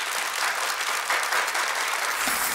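Steady applause from a studio audience, loud and continuous throughout with no talking.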